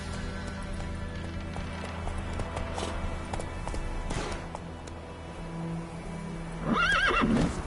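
Roach the horse in The Witcher 3 gives a loud whinny near the end, after a stretch of steady clip-clop hoofbeats under a game backdrop.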